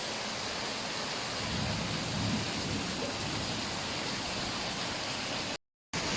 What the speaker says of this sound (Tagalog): hindi pa tapos ang ulan